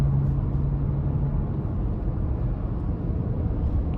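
A 2025 Toyota Land Cruiser 1958 drives on, its engine and road noise a steady, dense low rumble heard from inside the cabin, with no talking.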